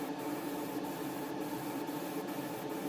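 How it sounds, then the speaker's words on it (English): Black paint sprayed in patchy, speckled passes onto an Airfix 1:72 Bristol Blenheim Mk.IV model kit: a steady, close, even hiss that runs unbroken for about three seconds. "I'm also spraying it on in a relatively kind of patchy speckled approach"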